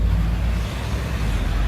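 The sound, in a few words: car engines in street traffic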